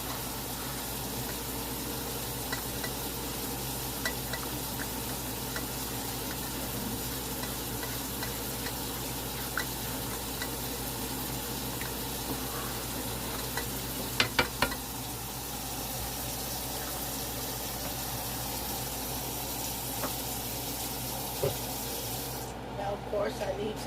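Flour stirred into hot water in a pan for smothered pork chop gravy, a steady soft bubbling and scraping texture running throughout, with a few brief clinks near the end.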